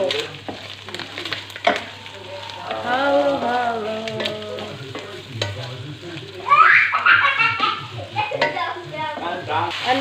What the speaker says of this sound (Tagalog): hinalo na yung vegetables. Pumpkin, potato, and carrot.